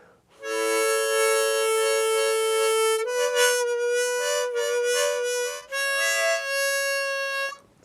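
A beginner blows rough single notes on a harmonica, sustained reedy tones that shift pitch up and down in a few long held segments with brief breaths between, loud and close with no talking.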